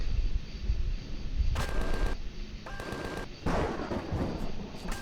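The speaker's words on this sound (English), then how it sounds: "I'm a little slow with the shots, waste ammo, have to back up and try again." Gunfire in the video game Empyrion, a handful of sharp shot bursts, a couple of them more sustained, cutting over a low rumbling game background at moderate level.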